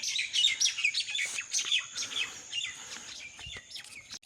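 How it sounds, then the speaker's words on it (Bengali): Several birds chirp and tweet in thick morning fog around dawn, their quick overlapping calls fairly quiet and continuous, with no one talking. "কি সুন্দর পাখিও বের হয়ে গেছে"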